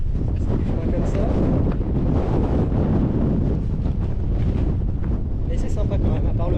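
Strong wind buffeting the microphone on an open, treeless coastal footpath on the Crozon peninsula, a continuous rough roar with gusty swells and faint voices partly buried beneath.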